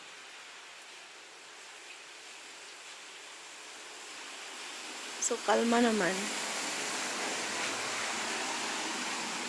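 Steady rain hisses evenly throughout, with a brief voice speaking partway through.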